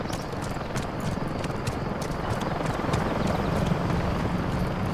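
Helicopter in Call of Duty: Modern Warfare 3, a steady rotor thrum running the whole time with fast regular chopping beats, mid-distance and fairly loud amid a dense game soundscape.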